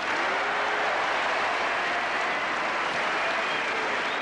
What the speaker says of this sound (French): Égalité à l'applaudimètre.